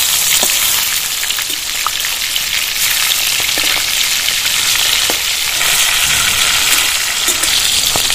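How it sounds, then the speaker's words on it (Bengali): Pieces of rita fish fry in hot mustard oil, giving a loud, steady, close sizzle with scattered small pops and crackles throughout. "এবার মাছগুলো ভেজে নেব।"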